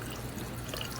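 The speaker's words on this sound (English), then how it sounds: "So she is rinsing it, but you'll notice we're not rinsing it at really high volume" Water running steadily at a salon sink as hair is rinsed at low volume during a perm neutralizing process, a continuous soft wash with no talk.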